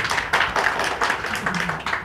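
Audience clapping for the boss at a business presentation, a brief burst of close, rhythmic hand claps in quick irregular pulses, fairly loud with no talk over it.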